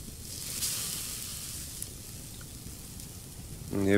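Raw meat cooks on a campfire in the survival video game Subsistence, a steady soft sizzle and crackle with faint hiss throughout, ending with a brief voice at the close.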